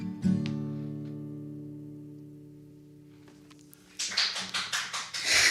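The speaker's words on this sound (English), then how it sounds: "I have some live applause in the background" Live audience applause at a birthday concert show, rising as a burst of clapping after a long held musical note fades, the claps arriving in uneven surges toward the end.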